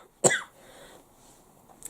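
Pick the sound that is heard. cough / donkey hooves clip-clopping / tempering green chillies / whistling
cough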